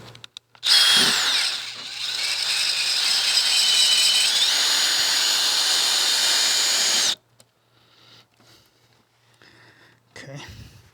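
Power drill driving a fastener into wood, a loud continuous whir lasting several seconds up close, followed by quieter handling clatter.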